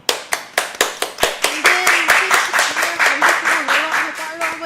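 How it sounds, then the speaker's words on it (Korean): About twenty hand claps in a quick, steady rhythm, loud and close, with a voice talking or singing over the later claps. "오늘 수고하신 김매원님에게 박수."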